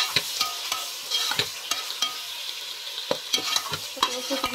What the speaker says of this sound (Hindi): फ्राई करने के बाद हम इसमें 2 मीडियम साइज के टमाटर ऐड करेंगे। अब हम इसको भी थोड़ी देर फ्राई करेंगे।